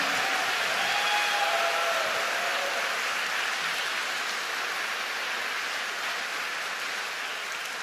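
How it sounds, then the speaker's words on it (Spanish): A church congregation applauds during a Christmas sermon, giving a dense, steady wash of clapping like heavy rain that holds at an even level throughout and tapers slightly at the end. "un aplauso más grande al Señor"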